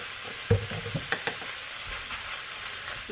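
Salisbury steak mixture being stirred in a pan with salt, pepper and pesto, giving soft sizzling under a few quick scraping strokes and light clinks that cluster near the start, then settle into a quieter fry.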